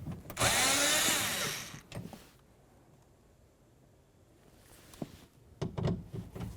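A power screwdriver whirs loudly for about a second and a half, backing Phillips head screws out of a door bracket on a Honda Accord. A quiet pause follows, then a few sharp clicks and knocks of the screw and bracket being handled.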